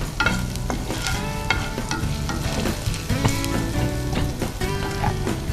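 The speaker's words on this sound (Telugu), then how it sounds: "సో ఇది మంచి కంప్లీట్ ఫ్రై అవ్వాలి జింజర్" Ginger fries in a pan while a spoon stirs through it, with crisp spattering sizzle and repeated scraping strokes, close and fairly loud, no voices.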